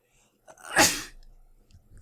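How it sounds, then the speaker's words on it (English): One close, loud human sneeze, a short sharp burst with a brief breathy tail, alone in an otherwise quiet room. "I needed to sneeze."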